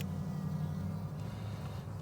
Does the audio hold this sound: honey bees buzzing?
yes